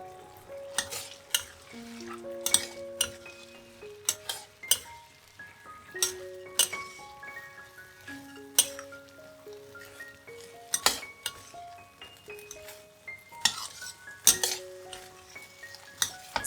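Fried king oyster mushroom strips stir-fried in a pan for a vegetarian sweet and sour shredded dish, with repeated scraping and sharp clinks of a utensil against the pan under steady light background music.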